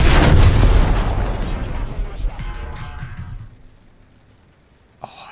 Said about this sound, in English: Alright, last cannon sound. Brace your ears, men.